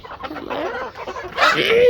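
Chickens on a large poultry farm cluck and squawk in a close, busy cluster, with one louder call rising near the end.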